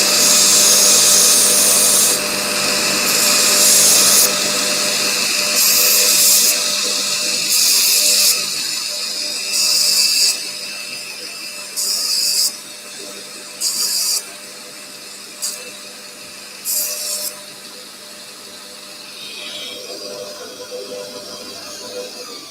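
A linisher sanding small metal parts, with loud rough grinding bursts that start and stop repeatedly, each pass a few seconds long and shorter toward the end, over a steady motor hum.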